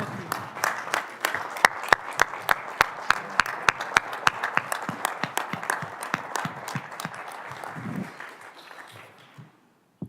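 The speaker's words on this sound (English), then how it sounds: "let's give him a great round of applause for his leadership" An audience at a parliamentary intelligence-security forum in Washington, D.C. applauds, individual sharp claps standing out over a broader patter that fades away at the end, with faint voices beneath.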